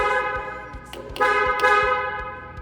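A car horn sounds in one continuous, loud, close blast lasting nearly three seconds, with a steady low thumping underneath. The horn is on a custom vehicle build that runs a Cummins diesel with compound turbos.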